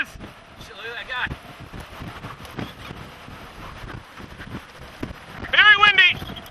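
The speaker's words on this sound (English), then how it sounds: "Very windy!" Strong wind blows near a tornado on the ground in South Dakota and Minnesota in September 2006. Gusty rushing wind fills the scene while people shout over it, growing louder near the end.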